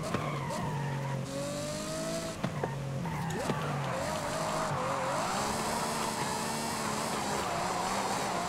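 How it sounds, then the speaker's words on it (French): A Ferrari in a racing video game revs hard while its tires squeal and skid through left-hand corners, the engine note rising and falling continuously and loud throughout. "j'aurais pas dû mettre des coups comme ça d'accélérateur"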